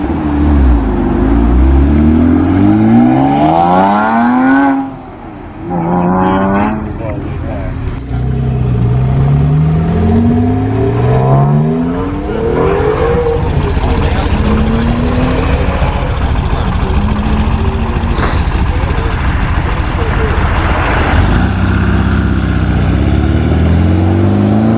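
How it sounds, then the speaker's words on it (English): A Honda S2000 with a VTEC engine revs repeatedly at a classic and sports car meet, each loud rising howl falling away before the next, over steady outdoor crowd noise. "VTEC noises from the S2000"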